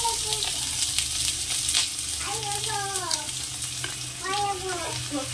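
Chopped green banana peel with dried and green chillies fries in a pan, a continuous close sizzle broken by stirring scrapes and a few faint tonal squeaks.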